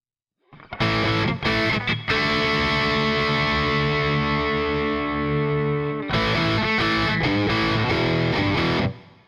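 Electric guitar chords ring out through an amp modeler, sustained and washed in reverb, with a few short strums before a long held chord and a final flurry.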